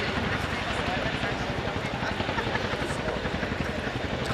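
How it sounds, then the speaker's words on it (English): An RAF Chinook HC4 twin-rotor helicopter taxiing backwards at an air show, its loud, steady rotor thump and turbine roar filling the scene with a rapid rhythmic beat. "the aircraft will start trickling back in the backwards taxi"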